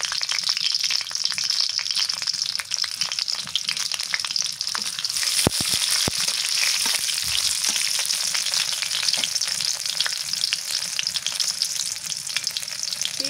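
Bay leaf, garam masala, cinnamon, cloves and small cardamom fry in hot oil in a pan, a loud steady sizzle with a few sharp clinks from a spoon, close up and without talk.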